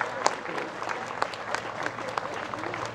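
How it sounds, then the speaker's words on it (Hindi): Crowd at an outdoor political rally in Navagam clapping to welcome guests, a moderately distant, continuous patter of applause with a few sharper individual claps standing out. "मैं चाहूंगा कि इनका भी आप तालियां बजाकर स्वागत करें"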